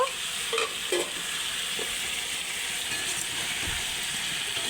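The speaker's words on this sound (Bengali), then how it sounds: "এবার এর মধ্যে টমেটো কুচি আর ধনে পাতা কুচি দিয়ে দেবো দিয়ে আবার একটু ভালো করে কষে নেব" Chopped tomato and coriander leaves sizzle steadily in a pan of silver carp curry with drumsticks, a continuous close frying hiss broken by a few soft stirring scrapes, no voices.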